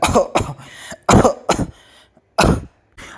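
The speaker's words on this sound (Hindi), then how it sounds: "एकदम से खांसने लगता है" Several short, harsh coughs in quick bursts with brief pauses between, close and fairly loud, with no talking.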